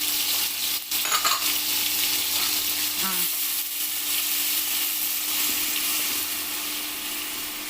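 Ground onion paste fries in a pan for a drumstick and coconut milk curry, a loud steady hiss with a few spoon scrapes and stirs early on.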